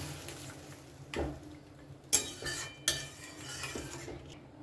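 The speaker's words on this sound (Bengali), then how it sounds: "এবার এর মধ্যে আমি দিয়ে দেবো পরিমাণ মতো গরম জল ভালো করে এটা মিশিয়ে নেব" Spiced murighonto mixture being stirred with hot water in a pan, giving a few sharp metallic clinks and scrapes of a spoon against the vessel, with quieter rustling between them and no talk.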